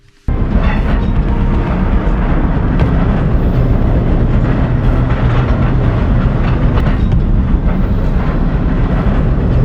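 A mine locomotive rumbles along loudly and continuously inside the Bochnia salt mine in Poland, with a steady clatter of wheels on rails filling the space.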